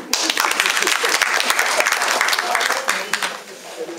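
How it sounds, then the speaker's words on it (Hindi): Audience at a live stage show breaks into loud, sustained applause, dense clapping filling the whole stretch before easing slightly near the end. "क्योंकि आप तालियां बजाएंगे इस बात के बाद बहुत जोर से।"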